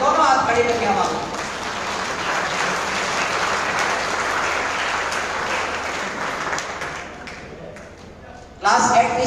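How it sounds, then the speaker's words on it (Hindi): Loud applause with hands raised at a school's student award ceremony: a dense, sustained wash of clapping from a large audience that tapers slightly before an abrupt louder burst near the end. "एक बार जोरदार तालियां, दोनों हाथ हवा में लगा के, दोनों हाथ खड़े करके हवा में।"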